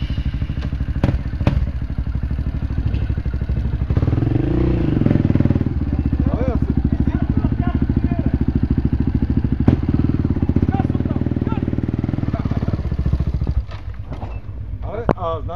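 A KTM motorcycle engine running steadily nearby on a mountain outing, a loud continuous rumble with clattering and wind buffeting, dropping in level near the end while people talk over it.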